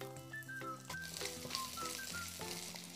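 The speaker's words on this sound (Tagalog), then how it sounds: "Igisa ang sibuyas." Onions sautéing in hot oil in a pan, a steady crackling sizzle with scattered pops, joined by faint tonal background music, no talking.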